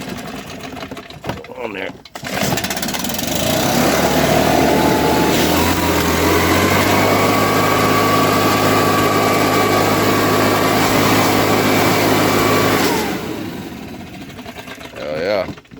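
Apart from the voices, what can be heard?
car engine starting and idling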